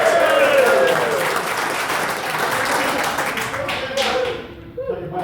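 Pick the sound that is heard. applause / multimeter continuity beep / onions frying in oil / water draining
applause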